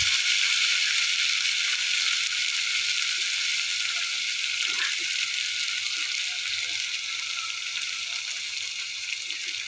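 A masala of onion, ginger and green chilli sizzles loudly and steadily in hot oil, with a dense hiss running through the whole clip and faint clinks beneath it.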